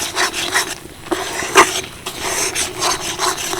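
Semolina being stirred by hand in a pan for a palm sweet, a close, continuous scraping and rubbing rhythm of utensil against the pan, with repeated strokes and one sharper knock midway.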